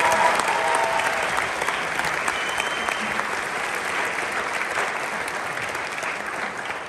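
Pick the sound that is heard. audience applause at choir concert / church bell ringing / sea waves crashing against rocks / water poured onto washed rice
audience applause at choir concert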